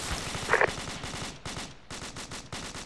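Rapid automatic gunfire rattles in repeated bursts during an Arma 2 military battle, loud and close, with short gaps between volleys and no talk.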